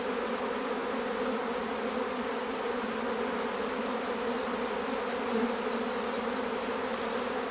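Honey bees buzz at an open hive during a strong nectar flow, a dense, steady drone that holds at an even level throughout without a break, close and unaccompanied by speech.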